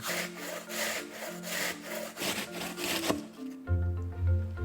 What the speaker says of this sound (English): grab a bowl with a grater on top and shred them on the large holes